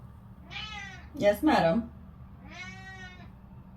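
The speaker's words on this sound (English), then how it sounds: "Cat interruption as per usual." A cat meowing indoors beside a knitter at work, two drawn-out vocal meows, close and fairly clear, with a short burst of human speech between them.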